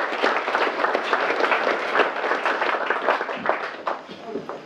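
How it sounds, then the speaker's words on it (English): An audience at an information evening claps to welcome a guest, a sustained crowd patter of many hands that thins a little toward the end, with voices faintly mixed in. "Round of applause,"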